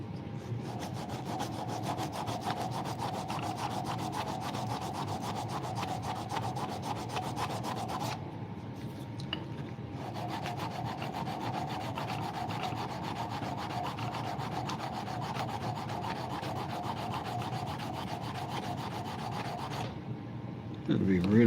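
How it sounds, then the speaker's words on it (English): Hand sanding a rough knife blade with 80 grit sandpaper: continuous rapid scraping strokes, close and steady, with a brief pause partway through before the rubbing resumes. "Maybe we'll get the hand sand and some 80 grit."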